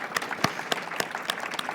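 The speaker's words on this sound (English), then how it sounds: "So a round of applause for that" Scattered applause from a small audience at an ocean health panel discussion, distinct individual claps in an irregular patter, fairly faint and brief with no talking over it.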